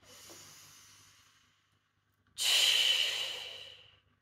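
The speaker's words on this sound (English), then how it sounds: "Deep breath in and out." A slow, deep breath during a calm EFT tapping session: a soft, quiet inhale fades out, a short pause, then a louder, close, airy exhale that trails away, with no talking.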